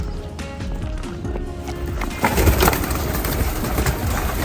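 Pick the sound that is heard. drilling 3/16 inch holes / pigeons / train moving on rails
pigeons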